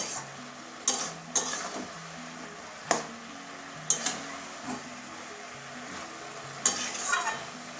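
A spatula scrapes and knocks against a pan at irregular intervals while Bengali-style fish head curry with bottle gourd greens and potatoes sizzles and bubbles softly underneath.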